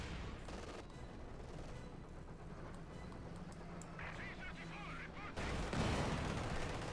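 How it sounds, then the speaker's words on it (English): Machine gun fire rattles in a Company of Heroes 2 match between Wehrmacht and Soviet forces, a StuG's pintle-mounted gun firing amid bursts of battle noise and artillery, ending in a louder barrage. "Stug then engaging with his pinmount machine gun"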